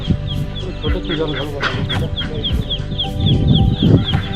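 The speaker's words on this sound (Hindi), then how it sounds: "बड़ा बड़ा बतख, छोटा छोटा पीला भी है, बहुत सारा" A crowd of ducks quacks and clucks repeatedly close by, overlapping calls from many birds, with a person talking over them.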